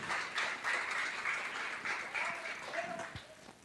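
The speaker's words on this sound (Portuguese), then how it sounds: "Você pode aplaudir o Senhor?" Congregation clapping in a church, a dense steady wash of applause that holds throughout at moderate level, with a few faint vocal sounds over it.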